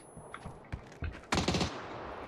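Bursts of gunfire in a shooting video game: a few scattered single shots, then a dense rapid volley, loud and close, with no talk over it.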